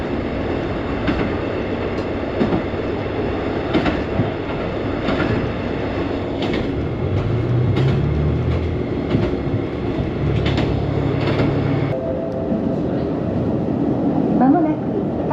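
Steady, loud rumble and clatter of a Tobu Railway commuter train bound for Ota, running between Saitama and Tochigi, heard from inside the carriage with faint voices and an announcement beneath the continuous rolling noise.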